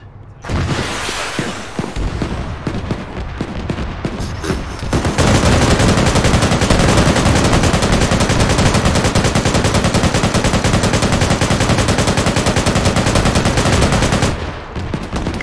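Video game gunfire during a firefight with a vehicle convoy: loud, dense bursts of automatic fire and shots, continuing almost without pause, with no one talking.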